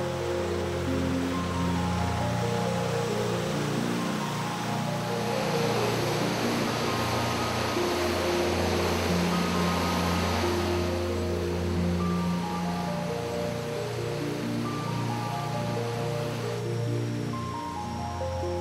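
Steady, loud rush of the Gong Gao waterfall behind the tourist service center in Khao Yai National Park, a continuous broadband roar of falling water that holds evenly throughout with no voices.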